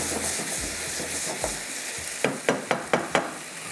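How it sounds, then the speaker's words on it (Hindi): Meat for galawati gosht stir-fried over high heat, a steady sizzle under a string of sharp spoon scrapes against the pan that come closer together and louder toward the end. "अब तेज़ आग पे इसको हम इस तरह से भूनते जाएंगे"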